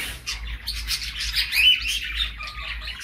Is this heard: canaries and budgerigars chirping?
yes